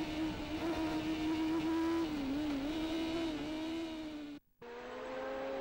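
A Suzuki superbike at full throttle in the Cooktown 100 road race, a loud, steady high engine howl that wavers slightly before briefly cutting out near the end and resuming.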